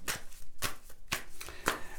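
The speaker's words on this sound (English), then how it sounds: "now I'm going to shuffle these cards" Tarot cards being shuffled by hand, with several quick riffling bursts in a short, soft sequence, close and alone.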